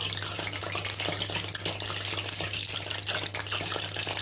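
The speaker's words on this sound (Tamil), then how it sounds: "எண்ணெய் கொதிக்குது ஆ சூடு எண்ணெய்" Hot oil sizzles and crackles steadily in a pan while frying sweet corn pakoda, a dense close hiss with little pops throughout, no voices.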